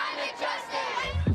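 A large crowd at a climate protest in New York roars with loud, massed shouting and chanting, a brief dense burst of many voices close by.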